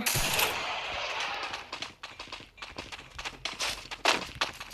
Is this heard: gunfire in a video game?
yes